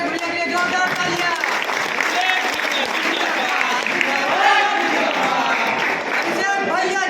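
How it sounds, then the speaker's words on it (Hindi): Loud, steady applause from a crowd at a group meeting of BCCL apprentices on employment issues, with voices shouting and cheering through the clapping for the whole stretch. "जोरदार तालियां"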